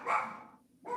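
A dog gives two quick close barks, the first louder and fuller, the second shorter after a brief gap, with no talk.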